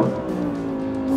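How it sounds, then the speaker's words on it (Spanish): A Lamborghini Huracán EVO RWD Spyder's mid-mounted V10 engine accelerates hard, a loud, steady, close-up roar with rich harmonic tone that swells slightly toward the end. "este V10 está dando lo mejor de sí mismo."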